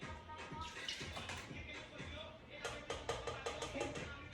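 Water is poured into a container while preparing empanadas, a soft splashing and trickling pour that surges in bursts, fairly quiet and close.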